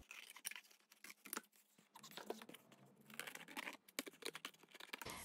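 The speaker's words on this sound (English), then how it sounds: "I'm going to cut it off just with a pair of scissors" A pair of scissors cuts through book cloth for a junk journal cover, giving quiet, close crisp snips and rustling fabric in irregular bursts, with no talking.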